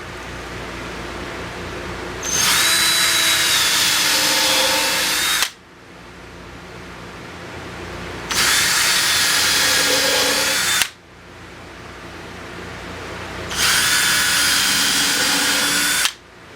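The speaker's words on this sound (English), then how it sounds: "that shows me where I need to drill my pilot holes" A power drill bores pilot holes into a wooden DVD cabinet in three separate bursts of about three seconds each, loud and high-pitched, with quieter pauses of room hum between them.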